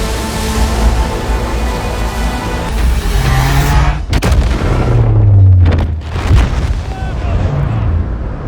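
The Castle Bravo hydrogen bomb explodes at Bikini Atoll in a dramatized scene, with deep, loud booming rumbles and a sharp blast midway, surrounded by heavy layered noise and a voice speaking over parts of it.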